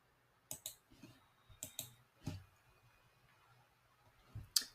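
Computer mouse clicking during software navigation, a few sharp, close clicks spaced irregularly, some in quick pairs, against a quiet room with no talking.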